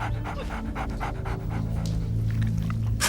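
A small dog pants rapidly and close by, a quick rhythmic string of breathy huffs lasting a few seconds.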